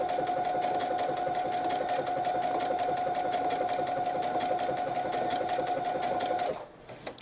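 A sewing machine stitches appliqué fabric in a fast, steady, close run of needle strokes with a constant motor whine, stopping abruptly near the end.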